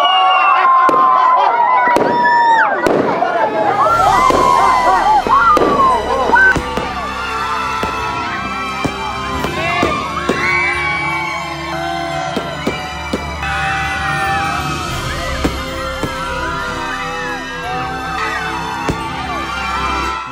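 New Year fireworks burst loudly and continuously in a mountain setting, with sharp bangs, crackles and whistling rockets over a lively crowd cheering and shouting throughout.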